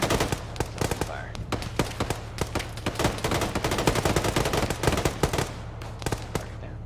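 Rapid automatic gunfire from an Arma 3 military convoy operation, dense bursts of sharp shots cracking over a steady low engine drone, continuous throughout at close range, with a voice speaking briefly amid the shooting.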